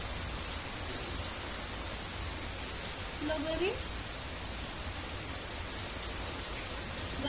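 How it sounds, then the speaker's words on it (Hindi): Heavy monsoon rain pours steadily outdoors as a dense, even hiss that fills the whole stretch, with a woman briefly calling out over it. "बारिश बहुत ज़्यादा हो रही है"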